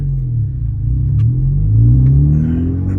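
A Honda Civic Type R FL5 engine blips its revs during a rev-matched downshift, a loud, close rumbling drone that rises in pitch over about three seconds with no talk.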